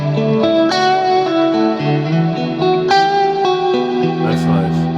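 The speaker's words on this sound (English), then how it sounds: "my favourite thing inside the Axe-Fx 3 is something called Plex Delay" Electric guitar played through the Axe-Fx 3 Plex Delay, a lush modulated reverb with delay repeats, sustained chords and notes ringing and smearing into a wide, shimmering wash; close and steady, with no voices over it.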